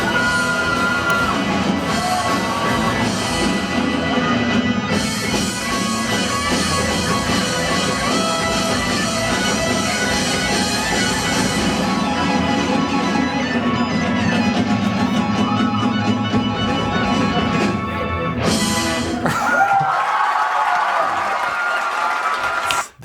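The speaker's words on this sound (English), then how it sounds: "The crowd goes wild." A wild crowd at a guitar show in Holland cheers, whoops and yells loudly and continuously for close to twenty seconds, then cuts abruptly to a quieter tail.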